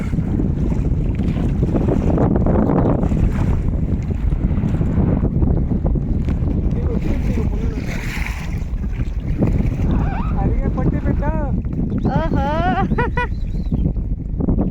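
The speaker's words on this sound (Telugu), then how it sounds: "అలలు జట్టు వస్తుంది" Waves slap and wash against a small fishing boat out at sea, a steady, loud roar mixed with heavy wind buffeting the microphone throughout, with a few faint tonal calls near the end.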